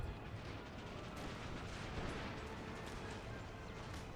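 Musket volleys and artillery fire from an Empire: Total War battle roll together into a faint, steady, distant rumble with no clear breaks, and no voices on top.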